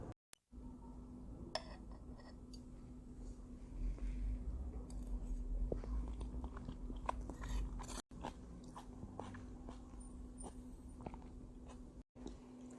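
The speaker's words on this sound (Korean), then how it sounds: "들깨, 감자, 옹심이, 메밀, 칼국수를 맛있게 잘 먹었습니다." Someone eats perilla potato ongsimi and buckwheat kalguksu noodles, with close soft chewing, slurps and occasional clinks of utensils on a bowl, steady and quiet with no talking.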